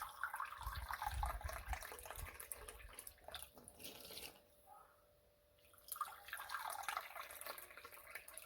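Water from a tap runs and drips into a mixing bowl of dough ingredients for amagwinya (vetkoek) fritters, a steady close trickle that briefly drops quiet midway before running again.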